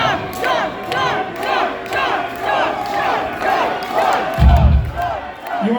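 A death-metal concert crowd in Toronto roars and shouts in rhythmic, swelling waves of cheering and chanting for more, loud and dense throughout, with a heavy low thump near the end.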